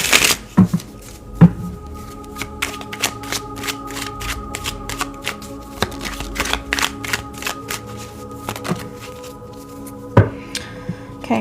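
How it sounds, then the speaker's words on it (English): Tarot cards are shuffled by hand for a finance reading, giving a steady run of crisp riffling flutters and soft slaps, with a few sharper card snaps near the start and end, heard alone without talk. "let's pull a few cards here, a few tarot cards for finances here as well"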